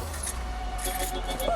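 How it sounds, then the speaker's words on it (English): Keys jangle at an apartment front door, a bunch of keys giving bright metallic clinks in short bursts, close by, over a low hum of passing traffic. "a lot of keys."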